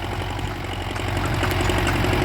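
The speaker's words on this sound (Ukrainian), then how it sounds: "Тяжкувато трактору." A tractor engine strains while pulling a seeder while sowing sunflowers in a dry field, giving a loud, steady, heavy drone with a knocking, vibrating undertone that holds without a break.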